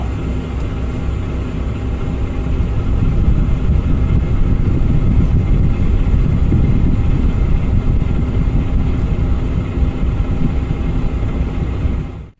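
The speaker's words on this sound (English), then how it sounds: "I'm airing the tire up right now with the air through" A truck tire is inflated through an air-through system, a loud, steady rushing roar with an engine-like rumble beneath it that holds for about twelve seconds before cutting off abruptly.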